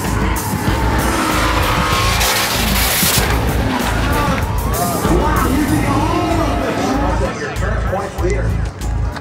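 A Formula Drift car at the Round 2 Atlanta event drifts with loud, sustained engine roar and tire squeal over a continuous crowd and track din, with a commentator talking throughout.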